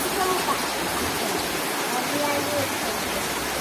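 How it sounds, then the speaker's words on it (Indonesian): Heavy rain pours down over a durian orchard in Cenggiring, a steady, dense hiss that fills the whole clip with no break or letup. "Kalau nunggu hujan nggak berhenti-berhenti nih"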